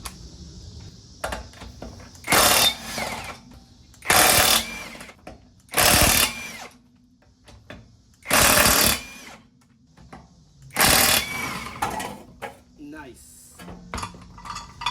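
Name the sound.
impact wrench on lug nuts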